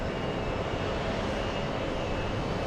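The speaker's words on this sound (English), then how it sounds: "we have Kevin 757 landing right now" A Boeing 757 jet airliner landing at JFK airport produces a steady, broad engine roar that stays constant and fairly loud throughout the short stretch.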